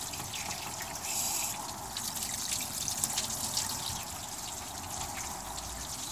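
Coolant drains from the radiator of a K5 in a steady trickling, pouring stream, close and fairly quiet, continuing without a break throughout.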